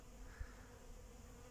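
Honey bees buzz faintly around apiary hives on a mid-December day, a soft continuous hum with no talking.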